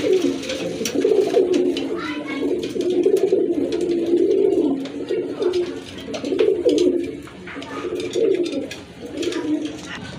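Domestic pigeons, including breeding pairs, coo repeatedly in low rolling phrases close by, with someone speaking faintly at times beneath the birds.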